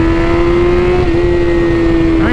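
BMW S1000RR motorcycle engine pulling hard on a cold night highway, a loud steady high whine held close throughout with wind rush, rising slightly at the end.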